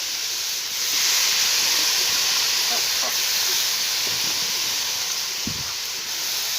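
Cut potato pieces go into banana flower already stirring in a hot pan, giving a steady broad hiss of frying with a few soft clatters and scrapes near the end.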